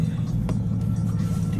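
A Mercedes-AMG GT S engine in Sport Plus mode rumbles with a deep, steady drone, heard from inside the car, with a brief rise partway through.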